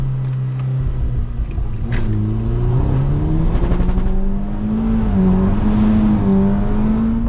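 A 417 bhp VW Golf GTI Edition 30 accelerating hard uphill on a 0-60 run, engine pitch climbing through several gear changes, loud and close from inside the car with no talking.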